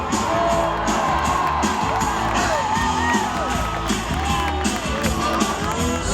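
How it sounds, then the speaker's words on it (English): A loud, lively crowd cheers and whoops throughout a live event, with shouts and yells rising over a continuous roar of voices. "You can start cheering a little early."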